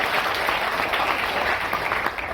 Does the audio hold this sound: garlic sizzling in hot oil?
no